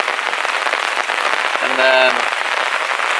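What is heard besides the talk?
rain falling, camping under a tarp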